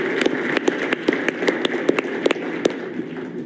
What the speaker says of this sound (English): So if we could just give them a round of applause right here at the beginning and just show our appreciation.